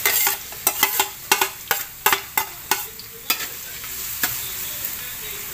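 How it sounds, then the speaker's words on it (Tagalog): Garlic frying in a pan for chicken mami, a soft steady sizzle broken by a dozen or so sharp, close clacks of a spoon stirring and scraping, spaced irregularly and fading toward the end. "Huwag natin iiwanan yung bawang kasi masusunog siya. So, halu-haluin natin."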